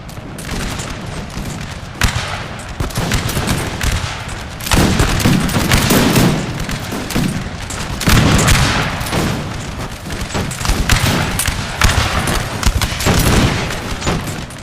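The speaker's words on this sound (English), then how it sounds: "They're shooting at the other infantry unit" Napoleonic musket volleys and cannon fire in the game Napoleon: Total War, a dense, continuous roar of overlapping shots and booms, loud and sustained with several surging bursts.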